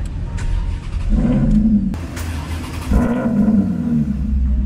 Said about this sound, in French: C'est vrai que ce bruit il est incroyable. On n'est pas dans la Prius familiale.